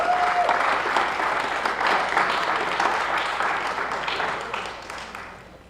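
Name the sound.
audience applause for student senators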